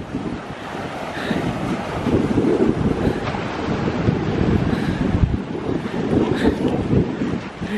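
Sea waves wash onto a beach in a steady, continuous roar, heavily mixed with gusting wind buffeting the microphone, with no voices heard.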